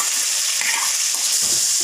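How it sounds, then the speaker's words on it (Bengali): Ground tomato, chilli and ginger paste frying with fish in a pan, giving a steady, loud, continuous sizzle that runs throughout with no voices. "এখন আমি এখানে বেটে রাখা মশলাগুলো দিয়ে দিব।"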